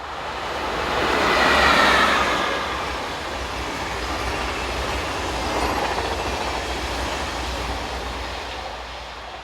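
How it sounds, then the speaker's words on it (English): Train passing at Kontich, Belgium, heard outdoors as a broad rushing rumble that swells to a peak and then holds steadily at moderate distance. "This is our second location at Kontich as"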